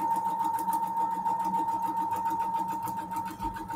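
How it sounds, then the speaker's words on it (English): A sewing machine runs steadily at 1.2 stitch length, sewing a straight line of tiny stitches on quilt fabric, with a fast even mechanical chatter up close and no talk. "Sewing on a straight line."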